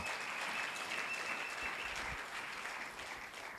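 A church congregation applauds for Jesus Christ, a dense, steady wash of clapping from many hands that carries on throughout and fades slightly toward the end, with no voices above it.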